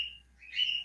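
A bird gives a brief high chirp, fades, and then sounds a longer, clearer whistled note, faint and alone.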